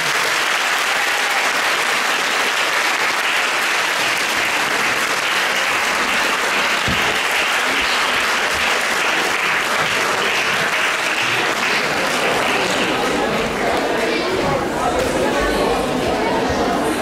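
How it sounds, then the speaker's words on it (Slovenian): A cinema audience applauds the film crew after a premiere screening, with long, sustained clapping and crowd chatter mixed in that swells and then fades a little toward the end. "da damo ekipi še en zadnji aplavz"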